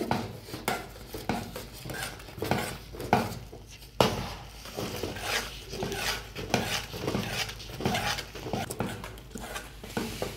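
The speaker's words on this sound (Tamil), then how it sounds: "இது மாதிரி கிண்டிகிட்டே இருந்தீங்கன்னா மாவு நல்லா வெந்து வரும்." Urad dal kali dough stirred steadily in a pan for a South Indian sweet, with repeated scraping and knocking of a spoon against the metal in a close, busy rhythm, no voices.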